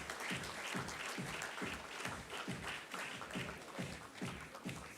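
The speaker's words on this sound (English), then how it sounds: "Please, a round of applause," Audience applause at a felicitation ceremony for a convention, a steady wash of many hands clapping that holds fairly even for the whole stretch, dense and sustained with no voices over it.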